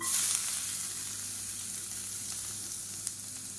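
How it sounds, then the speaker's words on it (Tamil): Crushed garlic cloves with their skins fry in hot oil in a pan for idli podi, making a soft continuous sizzle that is fairly quiet and steady, with no voices. "பூண்டு வந்து வறுக்கணும், அதனால் எண்ணெய் விட்டுக்கலாம்"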